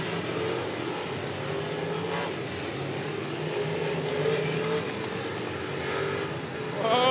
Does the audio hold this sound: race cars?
yes